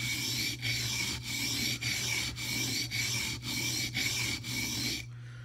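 A mini cleaver's edge is scrubbed back and forth on a sharpening stone, nine steady rasping strokes with brief breaks between them, close and fairly quiet over a low constant hum, ending abruptly.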